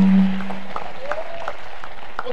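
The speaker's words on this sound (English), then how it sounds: "Please another round of applause for Mrs. Ogwo." Moderate audience applause for a speaker at a youth employment event, with a steady patter of clapping after a brief tone at the start.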